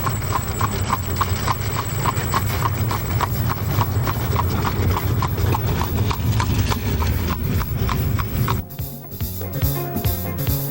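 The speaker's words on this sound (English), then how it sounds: "the clip-clop of horses' hooves echo down quiet country road" Horses' hooves clip-clop along a quiet country road in Lancaster County's Amish country, a brisk, even rhythm heard close and clear throughout, with a short shift in the background partway through.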